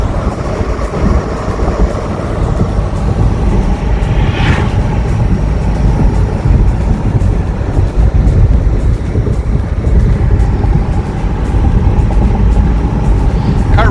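A 2001 Porsche 986 Boxster Gemballa Avalanche, lowered on H&R coils, driving over a rough road, heard from inside as a loud, continuous rumble of road and tire noise with thumps and rattles throughout.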